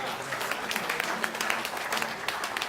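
At a school spring sports awards, an audience claps steadily and moderately loud, a dense patter of many hands that carries on with no break while voices murmur underneath.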